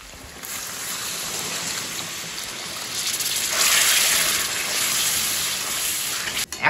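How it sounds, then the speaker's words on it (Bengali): Water poured into a pot of browned mutton masala makes a steady, loud gushing rush that swells midway and cuts off abruptly at the end, close up with no voices. "এবার আমরা মাটনে জল দেবো।"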